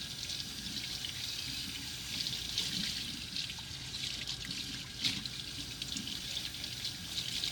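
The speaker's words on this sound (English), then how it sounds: "You're going to rinse it with the hot water." Hot tap water runs steadily over dishes being rinsed in a sink, a continuous hiss and splash with small shifts as items pass under the stream.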